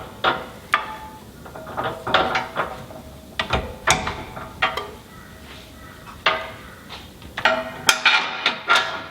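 Ratchet wrench tightening the final bolt on a rear bar being fitted to a Land Rover Discovery 2, heard as repeated close metallic clicking bursts with clanks between them, no talking.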